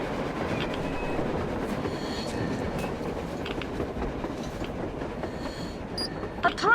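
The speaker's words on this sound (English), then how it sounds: "A train! A damn train on the surface!" A train rolls past in Metro Exodus, a steady broadband rumble of rail noise with faint clatter, holding loud and even throughout and swelling slightly at the end.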